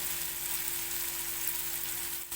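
Garlic and spices sizzling in hot oil for a Maharashtrian pithla, a steady dense crackling fry with a constant low hum underneath, close and continuous without pause, no voices.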